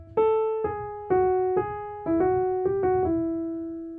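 A slow gospel piano melody, single ringing notes, a few preceded by quick grace notes, played alone and close.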